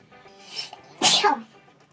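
A single sharp sneeze bursts out close up after a brief intake of breath, then quiet.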